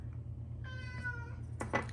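A cat meows in a drawn-out, wavering call, followed by a shorter, sharper meow near the end, with a steady low hum underneath during puzzle assembly indoors.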